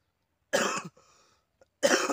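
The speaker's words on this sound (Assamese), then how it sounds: "কাহ হৈছে" A person gives two short, sharp coughs about a second apart, close and clear against silence, with a faint throat sound between them.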